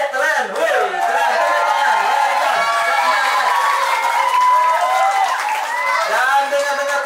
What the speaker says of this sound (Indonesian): Tepuk tangan untuk siswa-siswi Bekasi.